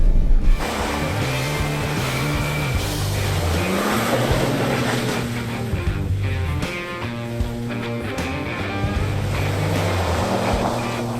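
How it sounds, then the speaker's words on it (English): Kia Telluride with a 3.8-liter 291-horsepower V6 and eight-speed automatic drifting on a loose surface, a steady loud engine drone with shifting harmonic tones over continuous rushing, wind-like noise throughout. "Here, I'll do a quick celebratory drift here."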